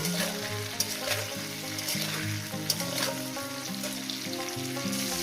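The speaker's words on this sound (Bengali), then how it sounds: "তো বন্ধুরা আমি এখানে তিন আর কাঁচা লঙ্কাটা দিয়ে দেবো দিয়ে দিলাম দিয়ে এটাকেও আমি আরও তিন মিনিট ভেজে নেব" Vegetables and rice sizzle steadily in hot ghee, a continuous close frying hiss with occasional stirring scrapes and clicks throughout.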